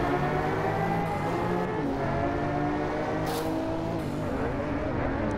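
Race car engine in the racing game Driveclub VR, a steady loud droning roar with shifting harmonic whine held throughout, with faint scrapes of tire noise.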